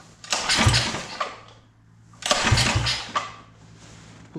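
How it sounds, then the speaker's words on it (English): Motorbike engine with a Mikuni clone carburetor on light choke, cranked twice in two close starter bursts that each catch briefly and fade without settling into an idle. "let's turn her on and see how she starts right now."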